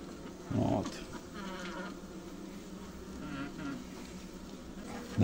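Honeybees hum steadily around a hive during winter management, a soft continuous drone with a louder thump or handling noise near the start.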